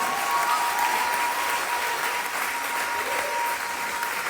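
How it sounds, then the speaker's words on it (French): Loud, dense applause from a church congregation acclaiming the Lord, a continuous wash of many clapping hands at an even level from start to finish. "Donnez-nous une acclamation au Seigneur."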